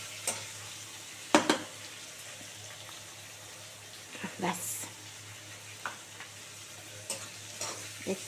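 Black pepper powder frying lightly in a pan while cooking chowmein, with scattered stirring clatters and a soft sizzle underneath, close by and fairly quiet.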